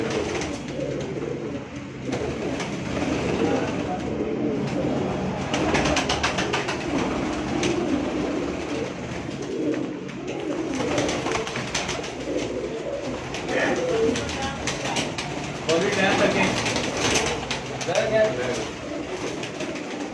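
Pigeons coo steadily from a rooftop during a pigeon flying tournament, a dense, continuous murmur under a general outdoor din, while people talk nearby throughout.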